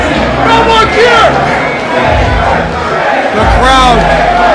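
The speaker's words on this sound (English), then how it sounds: "Kris Chambers celebrates amongst the crowd here at Superkick'd, the sea of humanity" Dense, loud crowd roar at a Superkick'd wrestling show during a wrestler's celebration among fans, steady cheering and shouting that swells in waves, with a commentator talking over it.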